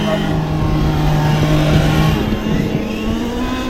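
A motor engine hums steadily and loudly nearby, its pitch holding then shifting slightly as it accelerates, with a voice faintly underneath.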